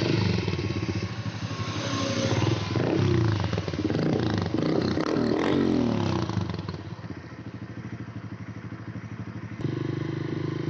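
A modified Hero CBZ converted into a cafe racer motorcycle fires up and idles, its engine chugging loudly and roughly up close, then settling into a quieter, steady idle with a brief bump near the end.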